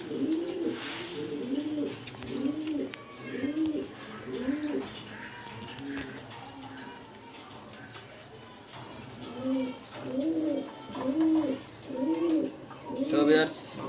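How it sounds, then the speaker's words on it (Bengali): A rare Roman gal male pigeon coos in repeated rhythmic bursts, a steady series of rolling calls that pauses midway, then resumes louder and closer. "রোমান গাল নর কবুতর"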